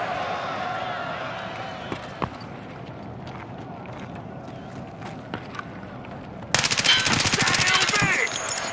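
Gunfire from the player's weapon in Escape From Tarkov, a few isolated shots followed by a loud, rapid automatic burst near the end, with a voice talking over the game sounds.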